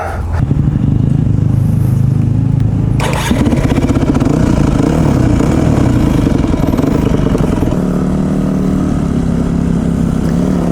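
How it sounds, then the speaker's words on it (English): A Yamaha WR250R dirt bike runs loud and close on off-road terrain, its single-cylinder engine revving and changing pitch continuously as the rider accelerates and shifts. "now I get to try WR250R, which has been on my list of to try bikes for a while"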